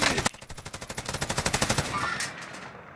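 Rapid automatic gunfire in a video game, a fast, even burst of close, sharp shots lasting about two seconds before fading out.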